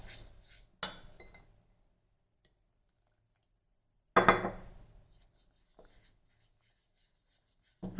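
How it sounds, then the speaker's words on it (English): A whisk is beaten through pancake batter in a bowl, giving a few short bursts of clinking and scraping against the bowl, separated by long quiet gaps, close and moderately loud. "So I'm going to take the whisk and start with my mixing."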